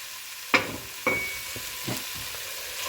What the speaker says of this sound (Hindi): मसाले को थोड़ा सा भूनेंगे